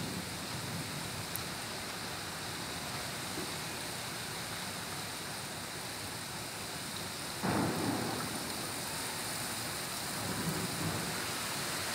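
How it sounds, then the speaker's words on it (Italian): Distant thunder during a July summer thunderstorm rolls softly under a steady wash of heavy rain, with one fuller rumble about two thirds of the way through. The sound is continuous and far off, and no one speaks. "Qualche tuono in lontananza."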